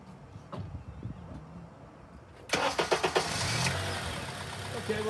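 A car engine cranks with a few quick rhythmic chugs, catches and settles into a steady idle, heard close after a quiet stretch of faint background noise.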